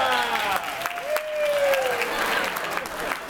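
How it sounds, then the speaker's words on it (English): Applause from an audience rings out for a performer named Gwyneth, a steady wash of clapping hands that lasts the whole stretch and sits fairly close, with a voice rising briefly over the noise. "A round of applause for Gwyneth"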